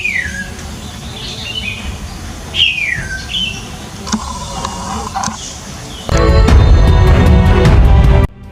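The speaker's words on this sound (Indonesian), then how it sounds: "Kicau burung bersahutan menandakan aktivitas pagi dimulai." Wild birds call to each other in the morning with clear descending chirps and squawks at moderate distance, then a loud dense burst of noise takes over near the end.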